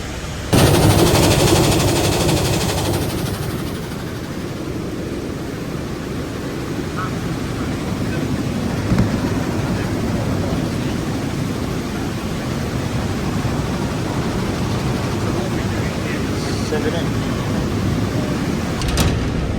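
Powdered mustard blown by pneumatic conveying up a tube into a cyclone in a mustard mill, a loud, steady rushing roar of air and material that fills the space without a break.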